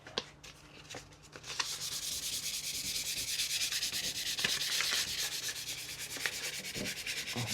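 Sandpaper rubbing by hand over a VW Transporter T6 rear spoiler, a continuous close, loud scratchy hiss with steady back-and-forth strokes after a short quieter start.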